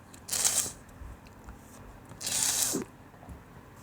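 Tarot cards shuffled by hand in two quick riffling bursts about two seconds apart, close and crisp against a quiet room.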